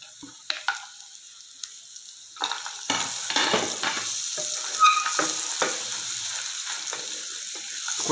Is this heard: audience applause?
no